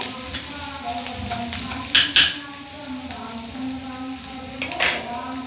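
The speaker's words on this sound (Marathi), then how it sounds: "कांदा चांगला सोनेरी रंगाचा होईपर्यंत भाजून घ्यायचा आहे" Onion sizzles in a pan as it browns to golden, with a soft steady frying hiss and a few sharp spatula scrapes against the metal, close and without speech.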